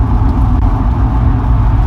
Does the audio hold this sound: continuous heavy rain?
no